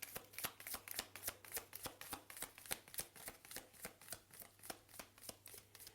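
A fairy romance tarot deck is shuffled close up in a steady rhythm of crisp card riffles and slaps that repeat quickly for several seconds with no talking.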